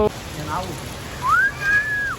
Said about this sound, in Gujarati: વરસાદ ચાલુ થઈ ગયો યાર.